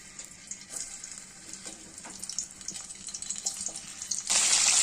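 Pieces of saavidam dried fish fry in a pan with a steady hiss and sizzle and scattered small pops, growing to a louder bright crackle at the end, with no voices.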